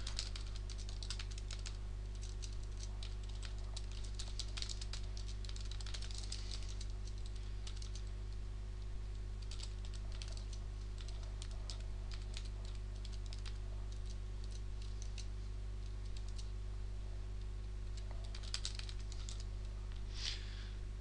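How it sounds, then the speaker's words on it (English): Billing information is typed on a computer keyboard, with steady bursts of light key clicks that go on at length over a constant low electrical hum, close and fairly quiet, with no voices. "we'll type this in now"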